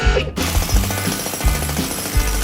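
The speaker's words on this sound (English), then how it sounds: "The drill goes brr, brr, brr." A big drill in a cartoon pounds a giant rock, a loud rapid jackhammer-like rattle hammering in repeated bursts about every three quarters of a second.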